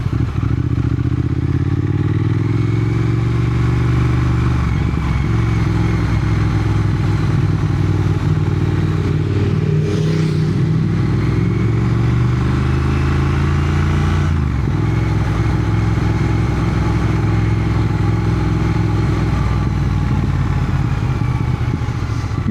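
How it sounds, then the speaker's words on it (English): A Triumph Thruxton motorcycle engine rumbles loudly and close, rising and falling through several revs, with a constant whine riding over the deep throb and no voices. "lovely sound of this bike. Really rumbly. It's got that background whine, of course, but almost sounds like a supercharger."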